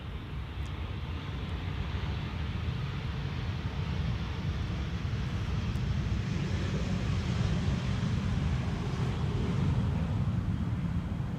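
A large airliner, arriving on runway 18R at Amsterdam, makes a steady, broad roar with wind buffeting the microphone, sustained without any clear rise or fall.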